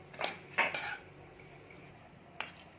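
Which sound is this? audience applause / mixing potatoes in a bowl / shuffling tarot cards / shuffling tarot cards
mixing potatoes in a bowl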